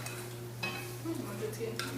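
Cookie dough being mixed for crockpot cookies, a short stretch of scraping and stirring in a bowl with a steady low hum underneath.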